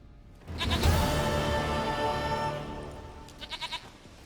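A goat bleats in The Witcher 3, one long, wavering, nasal cry rising close and loud, then trailing off into a short series of quicker pulsed bleats at the end.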